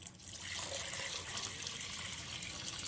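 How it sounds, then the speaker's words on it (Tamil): Roughly nine tumblers of water go into a pot holding rice and moong dal for usili upma, a steady close pour of moderate loudness that runs unbroken, with no talking. "நான் வந்து ஒரு ஒம்பது டம்ளர் வந்து தண்ணி சேர்க்குறேன்"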